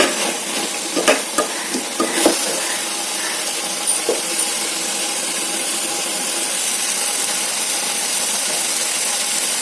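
Chicken curry fries in oil in a pan with a steady hiss, broken early by several sharp scrapes and taps of stirring, then settling into a continuous sizzle.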